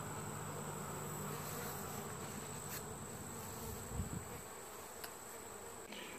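Honey bees swarm around an open hive, making a steady, dense buzzing hum throughout with no voices, along with a few faint knocks and handling noises in the background.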